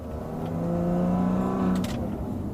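A Maserati Levante's twin-turbo V6 exhaust revs close by, a loud, rising engine note with steady harmonic drone that swells and briefly holds before easing off.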